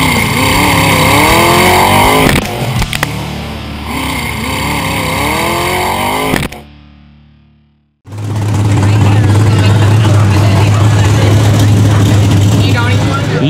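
Rock bouncer off-road vehicles race at an off-road park in Bedford, Kentucky, their engines roaring loud and steady with revving swells, a brief drop to near silence, then a heavy low rumble returning.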